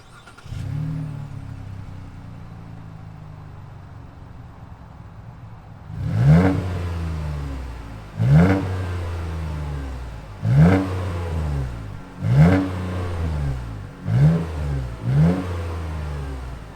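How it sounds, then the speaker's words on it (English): A 2021 Chevrolet ZR2 Bison truck's V6 engine idling with a low rumble, then revved repeatedly in sharp bursts, each rising and falling, close and loud. "let's fire up this V6 and hear what it sounds like"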